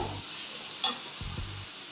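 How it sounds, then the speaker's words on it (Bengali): Onion, capsicum and tomato for pav bhaji are stirred in a pan: faint frying under a few soft scraping strokes of the spoon, with quiet gaps in between. "একটু ভালো করে নেড়ে নরম করে টমেটোটাও আমি দিয়ে দেবো"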